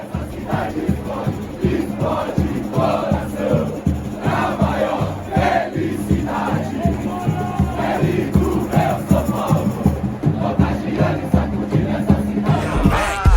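Football fans in the packed stands of Morumbi stadium chant in unison, a loud rhythmic mass of voices with regular beats throughout, sustained and close.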